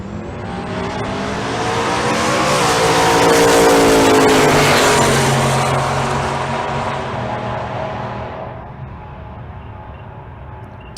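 A Silverado drag-racing in the right lane at Bandimere roars off the line, its engine climbing loudly through the run before fading into the distance as the pass ends.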